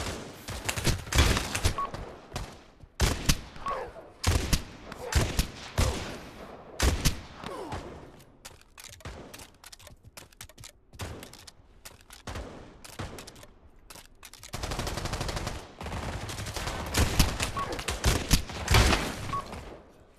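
Shotgun fire in the VR shooter Pavlov VR: loud, sharp blasts arrive in irregular bursts and clusters, separated by short quieter gaps during a gun battle.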